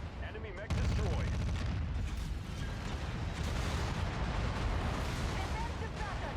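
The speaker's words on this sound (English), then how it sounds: "Wow, that's a lot of fire coming in from a whole lot of angles." Heavy weapon fire from a BattleTech-style mech combat game rolls in continuously after a brief quiet start, loud rumbling autocannon and missile impacts from many directions with dense blasts layered over a steady low roar.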